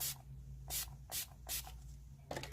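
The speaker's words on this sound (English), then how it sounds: "I'm going to spray it with my 10 years younger" Several short, soft hissing bursts from a spray bottle onto a cotton swab, spaced irregularly over a low steady hum, with no talking.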